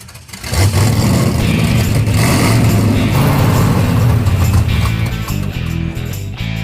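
An old drag race car engine running loud and close, revving in a rough, sustained roar that wavers as the throttle changes, with no talk.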